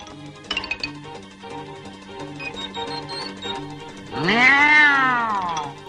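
A kitten gives one loud, drawn-out meow near the end, close and clear, over soft background music with a few light clinks earlier.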